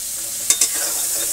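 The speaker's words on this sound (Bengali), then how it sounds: "ওই দেখো এখন ঠ্যাং ভাজা হবে" Crab legs hiss and sizzle steadily as they fry in a pan in a village kitchen for a crab kosha curry, with two short, sharp crackles near the start.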